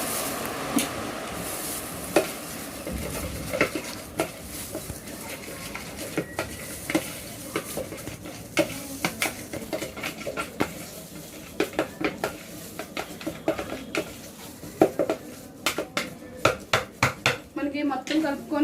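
Spoon scraping and clinking against a bowl while batthani chaat ingredients are stirred and mixed together, a close run of irregular metallic taps and scrapes that grows busier toward the end, with quiet room noise beneath.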